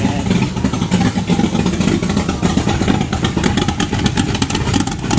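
A loud T bucket hot rod engine idles roughly, a dense, lumpy, thumping rumble close by with rattling clatter throughout, no talk over it.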